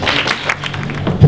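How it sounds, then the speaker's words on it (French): Applause from a Cité des Métiers winter school audience for the organising team, a short burst of scattered clapping with a faint voice underneath. "J'aimerais que tous ensemble, nous applaudissions mon équipe."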